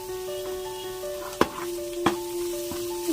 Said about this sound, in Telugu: ఇప్పుడు ఫిష్ నేను ఫ్రై చేసుకున్నాను.